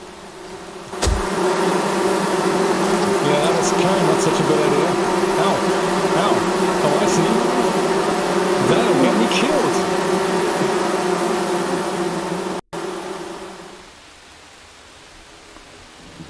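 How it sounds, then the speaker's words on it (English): Bees in the video game Among Trees give a loud, dense, continuous buzzing drone that persists for around thirteen seconds before cutting away to quieter ambience, and a voice speaks briefly over it. "Oh no, this is where the bees are."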